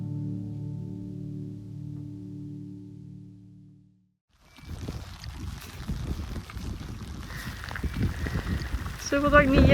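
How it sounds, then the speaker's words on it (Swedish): Steady heavy rain hiss fills the second half after a brief pause, following a low droning hum at the start; dense and close throughout. "regnet står som spön i backen och så blåser det lite"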